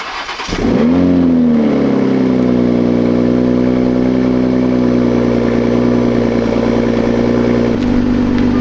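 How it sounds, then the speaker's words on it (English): A stock Mark V Toyota Supra engine cold-starts in sport mode and settles into a loud, steady, rumbling idle that continues close by, with a slight shift in tone near the end. "this is a cold startup on a stock Mark V Supra"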